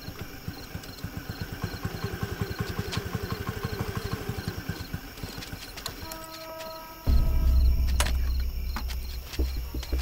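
A motorcycle engine idles with a rapid, even chugging pulse, then a sudden loud low rush of wind or handling noise takes over partway through; no voices.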